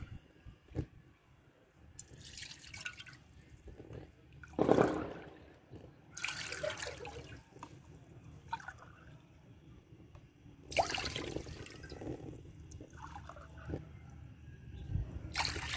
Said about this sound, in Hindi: कढ़ाई मैंने चूल्हे के ऊपर रख ली है और इसमें 4 कप मैं दूध डाल देने लगी